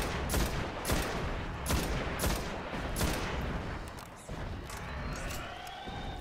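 Dense bursts of rapid gunfire in the video game Destiny, sharp repeated shots and an explosive blast filling the mix, loud and continuous.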